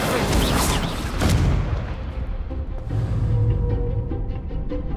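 A fire spell cast in the Hogwarts Legacy video game, heard as a loud booming burst with crackling blast noise that rises again midway, partly masked by other battle effects.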